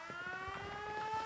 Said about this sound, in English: Now he turns the thing on. Now I have a siren.